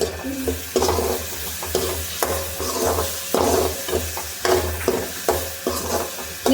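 Capsicum going into a frying pasta sauce and being stirred steadily, the spoon scraping the pan in regular strokes about every second over a constant sizzle.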